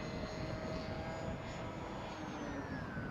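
Electric motor of a Soarcerer RC model plane flying in wind, a steady droning whine with slowly shifting pitch held continuously throughout, moderately distant over broadband wind noise.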